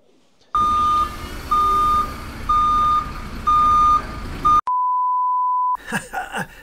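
A reversing vehicle sounds a loud, evenly spaced series of electronic beeps about to roll over a watch, then a single long steady tone follows before a burst of rustling noise.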